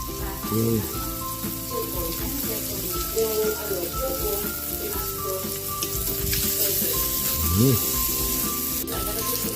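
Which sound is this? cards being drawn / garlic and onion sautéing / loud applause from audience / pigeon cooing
garlic and onion sautéing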